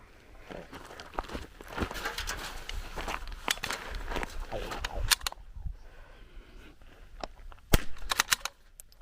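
.22LR rifle firing during a timed NRL22 shooting run, with sharp cracks scattered irregularly through the stretch at moderate distance, mixed with rustling, movement and brief speech.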